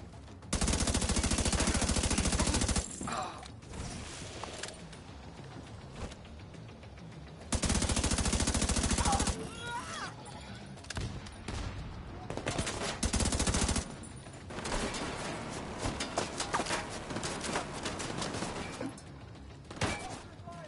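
Long bursts of automatic gunfire in The Division 2, loud and sustained, with shorter volleys and single shots mixed in and a constant backdrop of game noise.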